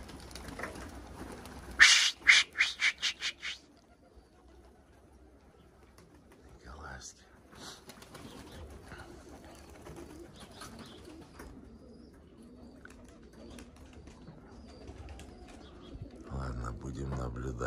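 Pigeons burst into flight with a rapid flurry of wing claps, followed by soft cooing and quieter fluttering, with a voice speaking at moments in the background.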